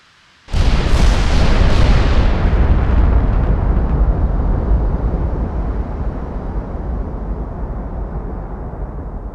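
Triple-barrel 17-inch battleship turrets fire in a naval combat game, a sudden loud boom that stays as a long, heavy roar and slowly fades over several seconds.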